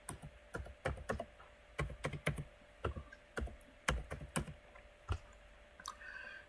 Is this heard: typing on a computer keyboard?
yes